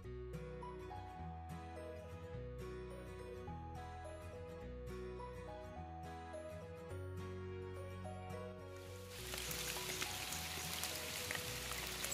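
Heavy rain pours down over a farm field in the Konkan, at first a tinkling patter with clear ringing tones, then swelling into a dense, loud, hissing downpour near the end.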